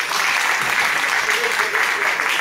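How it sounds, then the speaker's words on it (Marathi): An audience at a Marathi music event applauds the parents with loud, steady, close clapping that fills the whole moment, with no break. "पालकांसाठी जरा जोरात टाळ्या व्हायला पाहिजे."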